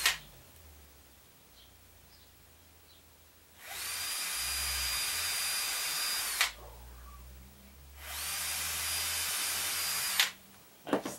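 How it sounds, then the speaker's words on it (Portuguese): Power drill boring holes through the wooden frame of a beehive nest frame, two sustained whining bursts of a few seconds each with quiet pauses and small knocks between, close by. "Eu vou estar fazendo três furos aqui"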